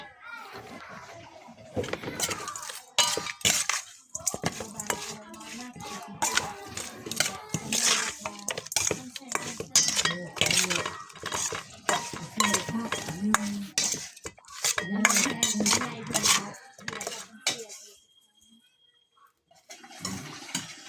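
Ingredients being stirred in a pot with fish sauce during outdoor Thai cooking of a fish dish, giving dense clinking and scraping of utensils against the pot that runs almost continuously, with voices talking over it.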